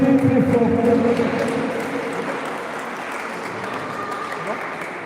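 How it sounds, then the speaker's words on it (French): Audience applause for two players at the close of a national circuit match, a broad steady clatter that is strongest at first and then thins and fades, with talk heard beneath it. "On peut applaudir les deux joueurs très très forts."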